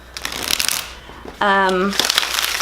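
A Tattoo Tarot deck being shuffled by hand a couple of times, with soft riffling and papery rustles in short bursts and a brief tonal hum between them.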